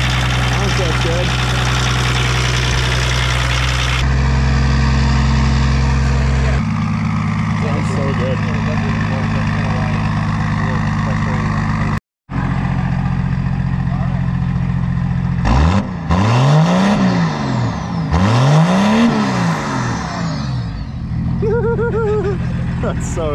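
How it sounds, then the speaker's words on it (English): A diesel engine running on vegetable oil, said to sound like a small Cummins, idles and revs with a steady deep drone, a brief cutout midway, then rising and falling engine sweeps, with people talking over it. "It sounds like a Cummins, like a little Cummins."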